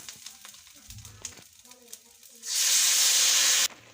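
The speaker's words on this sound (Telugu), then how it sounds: "ఇప్పుడు మనం చింతపండు పులుసు వేసుకుందాము." Tamarind juice poured into a hot frying pan for pulihora erupts into a loud, bright sizzle lasting about a second, after quieter stirring and clinks with light talk before.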